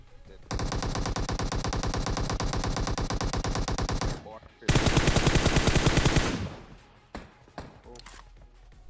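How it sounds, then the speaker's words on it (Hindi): Rapid automatic gunfire from the video game PUBG Mobile, a long dense burst of shots followed by a second heavier burst and a few scattered shots, with a player speaking briefly near the end. "मेरे को लगा यार आगे गोली चल रही है, आगे बंदे होंगे।"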